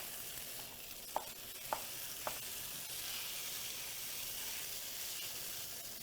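Vegetables for tofu vegetable fried rice sizzle steadily in a hot pan on a high-powered stove, a continuous bright hiss broken by three short clinks of stirring near the start.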